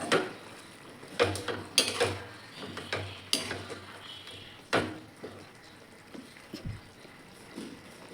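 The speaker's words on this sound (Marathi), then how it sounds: "मी साखर टाकलेली आहे व्यवस्थित मिक्स करून घेऊ आपण" Sugar being stirred into a cabbage mixture in a pan on the stove, heard as intermittent scraping and clinking of a spoon against the pan, several sharp knocks among softer stirring strokes, close and fairly quiet.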